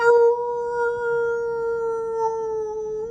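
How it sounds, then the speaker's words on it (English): A creature howls in one long sustained tone that holds steady and wavers slightly, loud and close, with no talking, as an effect in a werewolf screenplay reading under a full moon. "The howling continues beneath the full moon as the man screams for dear life."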